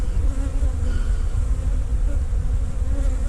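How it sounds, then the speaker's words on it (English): Bees from a collected swarm colony buzz continuously at close range, a dense steady drone with no voices over it. "a bee. There we go, standing in the way."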